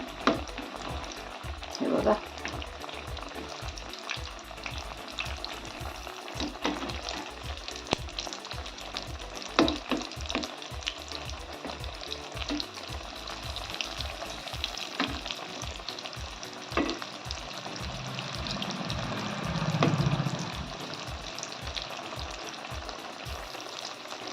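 Vegetable vada fries in hot oil with a steady close bubbling sizzle, punctuated by many rhythmic spatula taps and scrapes as the pieces are turned, plus a brief louder surge of bubbling.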